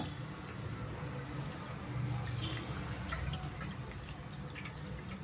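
Flattened rice (poha) being rinsed with water in a strainer, a continuous close splashing and trickling of water with drips, steady throughout with no talk.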